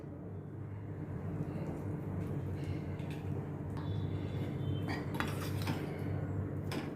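Chana chaat being mixed in a bowl: a soft, constant background hum with a few light spoon clinks and scrapes against the bowl in the second half, fairly faint and without speech.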